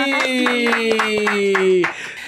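A few rhythmic claps from a small audience for a singer during a jam session, layered over a held musical tone that ends abruptly, followed by quieter scattered clapping.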